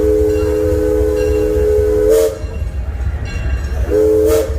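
An amusement park ride train at Six Flags Over Texas rumbles steadily along the tracks while its whistle sounds twice, cutting out briefly in between, loud and close.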